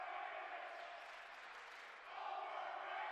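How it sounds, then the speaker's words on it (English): Basketball crowd in a college gym at UMass Dartmouth during a game against Tufts, a dense, distant roar of voices that dips briefly and swells again, steady throughout. "And there you can hear the crowd here at UMass Dartmouth voicing their opinion."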